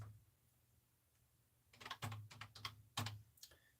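Quick bursts of typing on a computer keyboard at a shipping desk, a flurry of clicks and firmer keystrokes after a quiet stretch, close and clear with no voices.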